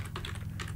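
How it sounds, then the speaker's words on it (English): Rapid keystrokes on a computer keyboard as a certbot install command is entered, a close, steady patter of clicks with no talking. "The last step we're going to need to do is type in apt install certbot"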